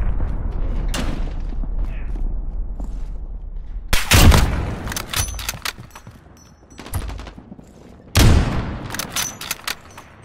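Gunfire in a Modern Warfare beta domination match with an AX50 sniper, heard as loud, close bursts and single heavy shots in separate clusters over low game noise.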